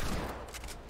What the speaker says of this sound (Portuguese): Nossa, Henrique tá tomando tiro